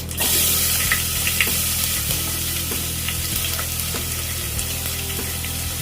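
Garlic drops into a pan with cumin and fries in a bright, constant sizzle with crackling spatter over a low hum, close and loud throughout.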